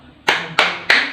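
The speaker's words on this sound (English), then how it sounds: "Let's give group 1 very good clap." Three distinct, evenly spaced claps close by from a class applauding a student group during an English lesson, each sharp and loud with a brief ringing tail.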